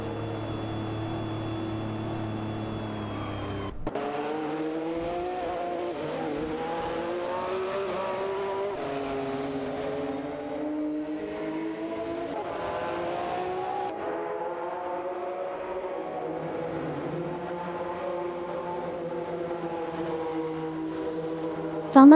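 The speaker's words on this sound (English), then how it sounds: "it out with Duffdad and Tankamin 704 in the Porsche 911 GT1. For the 7th position, the intensity is picking up as they navigate the track with precision" Race cars in a video game, a McLaren F1 and a Porsche 911 GT1, roar around the track with engine tones rising and falling through gear changes over a steady continuous drone, no talk.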